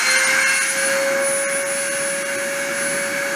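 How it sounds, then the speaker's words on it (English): A machining spindle runs steadily at 30,000 RPM during a deposition process, producing a loud, constant high-pitched whine that holds unchanged throughout. "I'm going to start the spindle and start the deposition."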